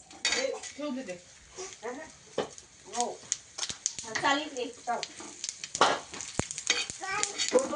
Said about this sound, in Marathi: तव्यावरती मिरच्या भाजणं चालू आहे